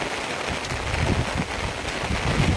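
Light rain falls steadily outdoors as a soft, even hiss with a faint breeze, with no voices.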